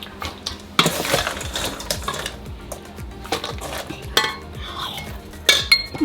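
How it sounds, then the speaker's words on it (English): Frozen blueberries are stirred into muffin batter in a bowl, producing close clinks and scrapes of a utensil against the bowl in an uneven rhythm, with occasional louder knocks. "So after every cup, stir it in."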